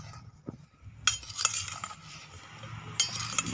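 A spoon scrapes and clinks against a bowl while stirring cauliflower and potato pieces with flour, a few sharp metallic taps among softer rustling strokes, close and alone.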